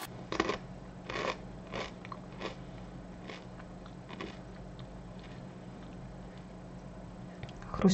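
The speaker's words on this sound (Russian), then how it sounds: "Хрустящие, такие прям хрустящие." Corn flakes being crunched while eaten, a 500-gram pack, with crisp bitten crunches in short irregular bursts, loudest near the start and end, close to the mic with faint background hum.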